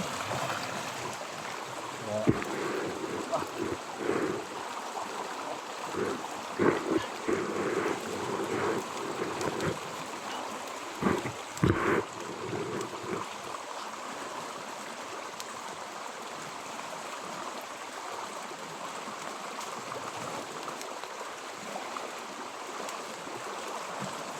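A strong, fast river rushes in a steady, loud roar of churning water, with occasional heavier surges and splashes near the start.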